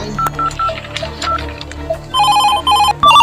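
A telephone rings and beeps with repeated tonal bursts in a Chhattisgarhi action short film, clear and fairly loud over a busy background with scattered noises, the pattern growing stronger toward the end.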